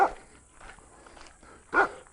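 A dog gives a couple of short barks, one at the start and a louder one near the end, with quiet between.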